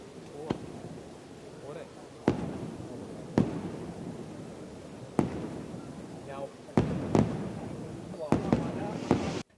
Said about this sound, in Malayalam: കുഴിമിന്നലുകളും അമിട്ടുകളും ശബ്ദത്തിന്റെയും നിറങ്ങളുടെയും നിറവായി.